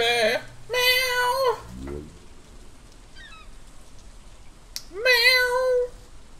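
A cat in the video game Stardew Valley gives three clear meows, the first two close together and one after a pause, over a soft patter of rain with brief chirps between.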